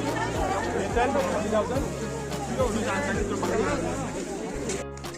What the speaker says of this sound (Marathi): खूप जास्त गर्दी, खूप जास्त गर्दी